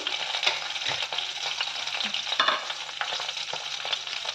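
Green chillies and cashews frying in hot oil with cinnamon and cloves for palak paneer, a close steady crackling sizzle with light stirring scrapes, no voices.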